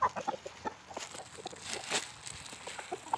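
Backyard chickens cluck steadily at close range, with short repeated clucks and calls scattered over a soft farmyard background and no talking.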